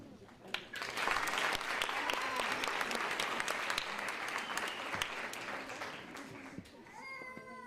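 Audience applause fills a commencement ceremony for the College of Nursing graduating bachelor students, a dense sustained crowd clapping that swells and holds for several seconds, with a voice and some higher tonal sounds entering near the end.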